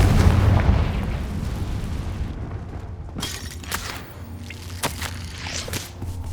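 A Confringo fire spell bursts in Hogwarts Legacy with a loud, rumbling boom at the start that fades into a lingering crackle, followed by a few sharper magical pops and crackles.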